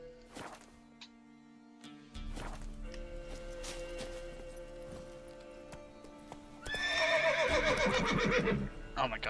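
Roach, the horse in The Witcher 3: Wild Hunt, whinnies and snorts over clip-clopping hooves and in-game ambience, ending in a louder, drawn-out neigh.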